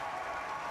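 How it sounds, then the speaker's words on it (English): Applause from the crowd at the North Lanarkshire count as the 2014 Scottish independence referendum result is declared, a steady dense clapping held at an even level through a brief moment. "very happily applauding the result there from North Lanarkshire"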